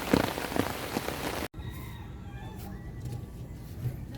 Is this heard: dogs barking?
no